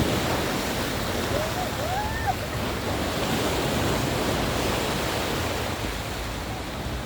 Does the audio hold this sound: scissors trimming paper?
no